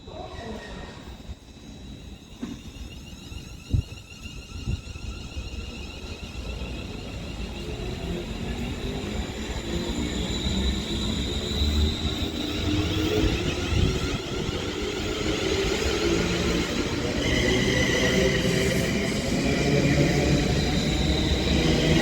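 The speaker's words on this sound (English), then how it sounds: "Now departing is going to be the 1251 London North Western Railway service to Birmingham New Street of 350-121 and 350-124" London Northwestern Railway Class 350 units pulling out of Runcorn, a low rumble that builds gradually and grows louder as the train gets under way, with faint talk early on.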